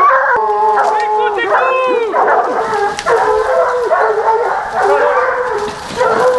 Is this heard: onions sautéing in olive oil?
no